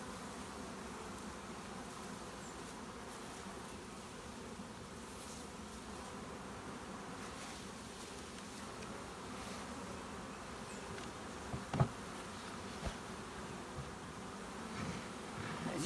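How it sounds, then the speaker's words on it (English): A caught swarm of honey bees fills a box with a soft, steady buzzing hum, faint and continuous, with a few light knocks toward the end. "As you can see, it's just full of bees."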